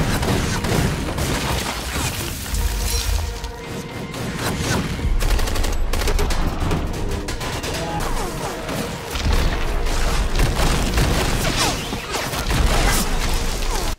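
Spider tank combat from the 2017 Ghost in the Shell film, with dense bursts of gunfire, crashes and booming explosions filling the mix loudly and continuously throughout.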